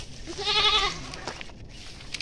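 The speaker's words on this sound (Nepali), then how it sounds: "यहाँ चाहिँ चरिरहेछ बाख्राहरू" A goat on a hillside bleats once, a loud wavering cry close by, followed by faint rustling and quiet outdoor ambience.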